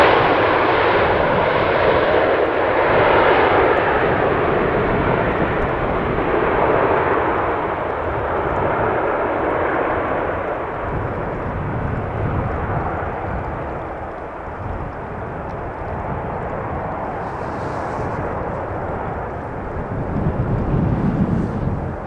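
A KLM Boeing 737 jet lands fast at Amsterdam Schiphol on a windy day, its broad engine roar loud and steady, slowly easing and then swelling again toward the end under gusty wind noise.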